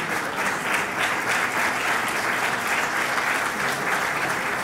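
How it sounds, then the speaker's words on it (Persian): Sustained, loud audience applause fills the hall at a Persian music award ceremony, dense steady clapping from a large crowd with no pauses. "تشویق بفرمایید، خواهش میکنم"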